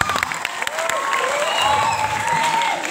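Lively audience applause and cheering at a Calonarang temple performance at Pura Dalem Jati, Bali, loud and close, mixed with whoops and crowd voices and a whistling tone drifting over the clapping.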